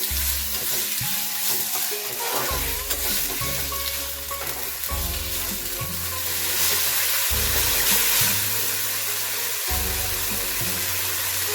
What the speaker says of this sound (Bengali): একটু জিরে ফোড়ন দিয়ে দিচ্ছি তেলে, আর তারপর টমেটো গুলো দিয়ে দিচ্ছি।